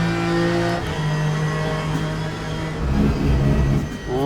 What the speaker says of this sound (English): Really liking those sounds of the engine.